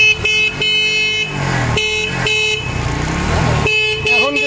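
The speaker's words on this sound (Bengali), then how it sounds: "এখন কিন্তু ব্যাটারি ছাড়াই হর্ন বাজতেছে" A motorcycle horn, tested without a battery after a voltage regulator fix, sounds in several bursts over the running engine, with brief breaks between the blasts and voices nearby.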